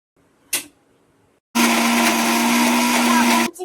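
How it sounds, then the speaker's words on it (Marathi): A mixer grinder whirs as it grinds masala with dry coconut for sukka chicken, starting abruptly after a brief clatter, running loud and steady with a sustained hum for two seconds, then cutting off. "आपण सगळा मसाला मिक्सर मध्ये बारीक करूया."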